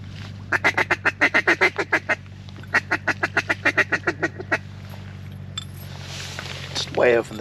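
A long run of rapid quacks from several wild mallard ducks, two bursts of evenly spaced calls over a low steady hum, then a brief rustle.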